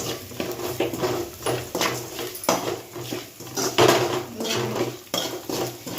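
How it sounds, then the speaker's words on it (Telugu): Prawns with garlic and chili powder are stirred in a pan, with a utensil clattering and scraping against the metal in busy, uneven strokes up close over a faint sizzle. "ఒక టూ మినిట్స్ ఉంచుకొని ఇట్లా కలుపుకుంటూ ఉండాలండి"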